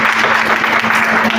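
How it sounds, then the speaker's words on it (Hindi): Audience applause at a news award distribution ceremony in Pakistan, a dense burst of clapping from a crowd, loud and close, lasting only a moment. "उनके लिए आप सब भरपूर तालियां बजाएं"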